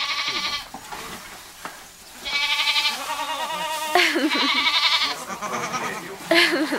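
Goats at feeding time, excited by grain, bleating repeatedly in wavering, nasal calls that overlap one another close by, with a few quiet knocks between the cries.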